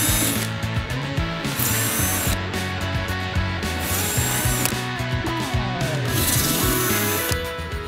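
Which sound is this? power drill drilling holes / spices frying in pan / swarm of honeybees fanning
power drill drilling holes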